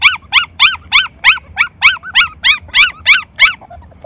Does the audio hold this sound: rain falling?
no